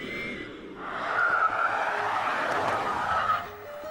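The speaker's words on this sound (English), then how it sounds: "This means steering, starting and stopping on icy surfaces and cold asphalt." BMW 5 Series GT test car maneuvering on icy surfaces and cold asphalt at a winter test center in northern Sweden, with a steady engine drone and a sustained skidding, squealing tire sound that swells and fades, no talking.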